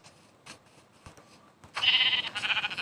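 Sheep bleating in Minecraft hardcore mode: soft clicks and taps, then a short wavering bleat that rises clearly and sits close and fairly loud near the end.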